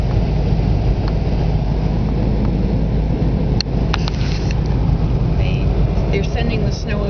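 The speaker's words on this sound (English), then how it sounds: "A snow blower." A snow blower clears a residential driveway with a steady, loud mechanical roar and scattered scraping and crunching noises, heard continuously from nearby.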